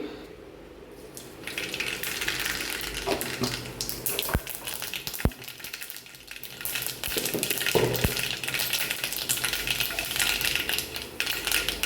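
Mustard seeds in hot coconut oil in a pan, a continuous sizzle scattered with sharp pops and crackles, plus a few louder isolated snaps, close and without talk.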